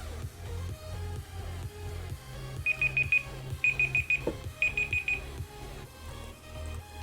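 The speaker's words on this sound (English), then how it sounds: "My timer for my gold keys is up." A game timer alarm goes off, beeping in three quick bursts of rapid high tones over steady background music.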